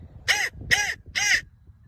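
A blown crow call imitating an adult crow gives three loud, evenly spaced harsh caws, close up, with no talking.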